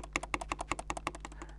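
Rapid computer clicks tap out in an irregular quick run, close and fairly quiet, with no voices.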